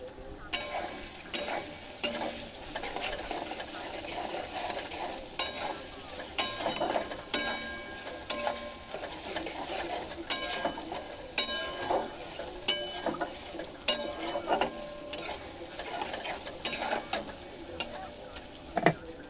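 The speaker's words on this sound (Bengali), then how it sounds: "পেঁয়াজটা হালকা লাল লাল ভাজা হয়ে গেছে" Sliced onions frying slowly in a pan on low heat, lightly browned, with a constant close sizzle and frequent rhythmic clicks and scrapes of a spatula stirring against the metal throughout.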